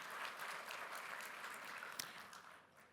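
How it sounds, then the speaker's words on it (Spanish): Audience applause at a National Assembly event in the Dominican Republic, a dense wash of clapping that starts strong and slowly thins out. "para quien pido un fuerte aplauso"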